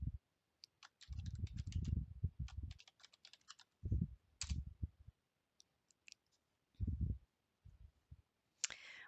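Bursts of typing on a computer keyboard while entering a search, quick runs of key clicks separated by pauses, close and clear with no talking.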